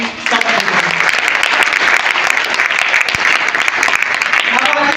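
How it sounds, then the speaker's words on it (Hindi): A large crowd applauds at a network marketing training seminar, loud continuous clapping filling the whole stretch, with some voices mixed in underneath. "ताली होनी चाहिए।"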